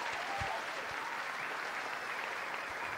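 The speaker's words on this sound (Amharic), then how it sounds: "ለሰዓሊው አንዴ ሞቅ ያለ ጭብጨባ" An audience gives warm, steady applause for a painter at an Ethiopian arts awards ceremony, a dense wash of clapping sustained evenly throughout, with no speech.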